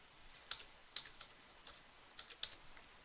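Sparse keystrokes on a computer keyboard, a handful of light, clicky taps spaced irregularly over about three seconds, close and quiet with no talking.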